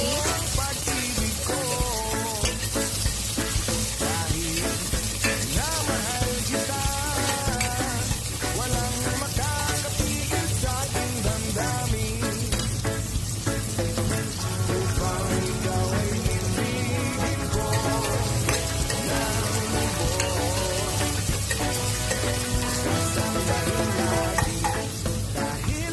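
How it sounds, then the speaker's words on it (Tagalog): Garlic and onion are stirred and fried in a pan while cooking sardines with vegetables, giving a steady close sizzle with scraping stir strokes that runs throughout, without talk. "Haluin ng mabuti ang bawang at sibuyas."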